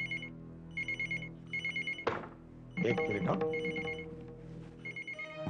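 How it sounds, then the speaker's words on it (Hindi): A telephone bell rings indoors in repeated double bursts of trilling, fairly close. Someone speaks briefly between the rings, and the ringing carries on under more voices. "क्या सही टाइम पर फोन की घंटी बजी है?"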